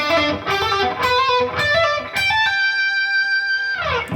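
A distorted electric guitar plays a short melodic phrase of picked notes, the last one held and sustained before a final quick run.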